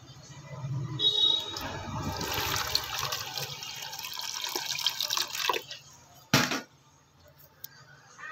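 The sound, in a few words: water poured onto a repaired plastic tub to test for leaks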